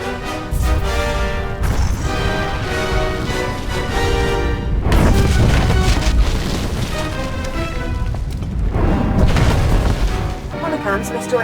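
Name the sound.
bomb explosion in a video game, SWTOR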